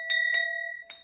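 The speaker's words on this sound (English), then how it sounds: "It's a huge bell. Look at how big this is. It's a brass bell." A large brass bell struck twice in quick succession, then once more after a pause, each strike ringing with a bright metallic tone and a sustained, steady hum between hits.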